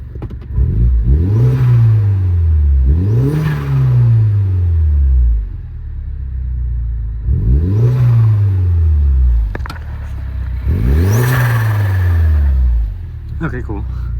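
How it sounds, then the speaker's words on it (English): Mini Cooper S with a replaced high-pressure fuel pump revving in several loud, close blips, each rising and falling in pitch with idle rumble between and a rattly airbox. "I usually like to give a couple revs, make sure it builds up a little bit of fuel pressure"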